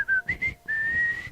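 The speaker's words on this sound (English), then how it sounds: "catch me whistling" A person whistles a short, bright melody up close, a few quick notes and then one long sustained pitch, with nothing else around it.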